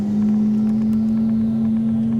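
Lamborghini Aventador and Ferrari F12 Berlinetta racing from a 50 km/h rolling start: a steady, loud engine drone with a strong low hum throughout, no voices.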